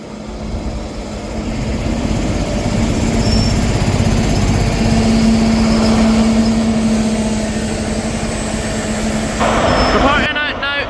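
A delayed Scotrail service departing Monifieth station, with a steady rumbling engine drone building and holding close by, a sustained mid-pitched tone, and a brief squeal near the end.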